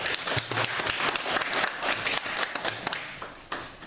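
Moderate audience clapping at a ceremony in Ngaoundéré, approving three points of a cooperative, a mix of claps heard at some distance, uneven and fading toward the end.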